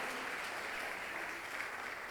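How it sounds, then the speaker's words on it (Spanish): A church congregation applauds during a sermon, a dense, continuous roar of clapping that holds steady and sounds somewhat distant, with no speech over it. "Dele un aplauso al Señor."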